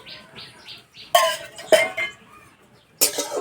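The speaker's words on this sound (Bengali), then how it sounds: "কড়াই দেবো সর্ষের তেল।" A kadai is set on a lit stove and mustard oil is added while cooking vegetables with fish. Three distinct metallic clanks and clatters stand out against near silence, with soft faint taps between them.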